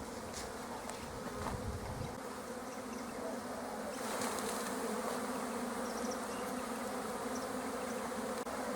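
Honey bees swarm around an opened hive, a dense, continuous buzzing drone with individual bees passing close now and then, steady and fairly quiet with no voices.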